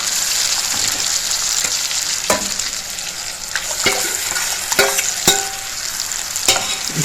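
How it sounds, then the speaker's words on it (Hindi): Laukee kofta masala fries in oil in a pan under constant stirring, with a dense close sizzle and repeated clicks and scrapes of the spoon against the pan. "इसी तरह से लगातार इसको चलाते हुए भूनेंगे"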